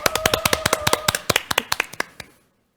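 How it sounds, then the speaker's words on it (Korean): A short burst of hand clapping from a few people, quick and fairly close, tapering off and ending in silence. "모두 박수!"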